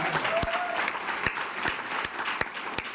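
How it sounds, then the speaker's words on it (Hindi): A crowd at a motivational seminar in India claps steadily, the dense applause punctuated by a few sharp, close hand claps standing out above the rest. "तो एक जोरदार तालियां यार इस व्यक्ति के लिए।"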